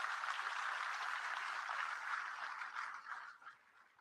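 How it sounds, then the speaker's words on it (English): Audience applause for the SRM team at a state government launch event, a faint, distant wash of clapping that holds steady, then tapers off toward the end. "Give a big applause for our SRM team."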